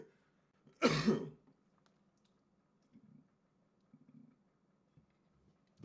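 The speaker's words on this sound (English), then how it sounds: "this question made me cough." One sharp, loud cough bursts out close to the mic, followed by a few softer throat-clearing grunts and quiet rustles in an otherwise still room.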